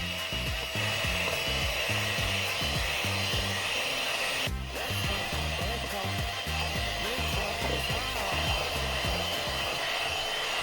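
An electric mixer beats eggs, sugar and vanilla for a nut cake batter, running as a continuous loud whirring drone with a low churning pulse throughout, a single brief knock partway through.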